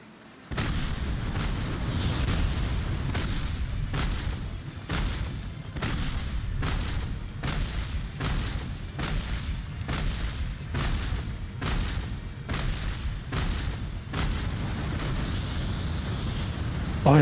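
Cannon fire in the early-access survival game Breakwaters, a long run of heavy booming blasts repeating every second or so, loud and close over a constant rumbling background.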